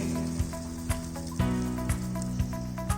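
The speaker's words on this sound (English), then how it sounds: "Allow it to boil and then simmer for 5 to 6 minutes. As you can see, it is boiled. Now we will simmer it." Macaroni soup broth boils and simmers in a pot, a steady bubbling hiss with soft periodic pops rising roughly every half second, continuous and fairly close, with no voices.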